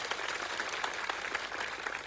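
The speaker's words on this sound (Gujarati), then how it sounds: "મીડિયા મિત્રો માટે એકવાર જોરદાર તાળીઓ પાડી લો" A rally crowd in Khedbrahma claps loudly for the media team at a Chaitar Vasava event, with dense, steady applause filling the whole moment and no voices standing out.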